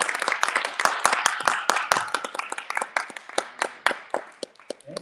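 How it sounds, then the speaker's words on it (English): An audience at a radio conference session applauds a speaker with a dense burst of many hands clapping that thins toward the end, close and fairly loud. "let's give a round of applause to our first speaker, Jen Ramirez."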